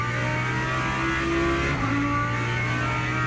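A race car engine in the Le Mans Ultimate racing game, with a Porsche being driven hard, gives a steady loud droning tone with a brief dip and shift in pitch mid-way, alone without talk.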